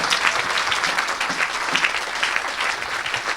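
Church congregation applauding the Lord at a worship service, a dense sustained burst of clapping from many hands, steady and loud throughout.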